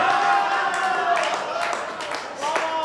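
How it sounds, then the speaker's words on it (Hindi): Audience clapping at a training programme session, steady crowd applause mixed with voices throughout. "ताली कमजोर है आपकी, ताली बढ़ाना पड़ेगा"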